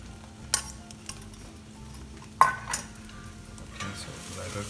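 An egg mixture for a masala omelette cooks in a pan with a low, steady sizzle, broken by a few light clinks and scrapes of a utensil against the pan.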